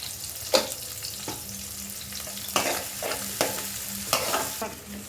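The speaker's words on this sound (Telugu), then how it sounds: "ఆనియన్స్ వేగేయండి" Onions with a pinch of salt sizzle steadily in a pan for a brinjal and potato curry, while a spatula scrapes through them in repeated, distinct strokes.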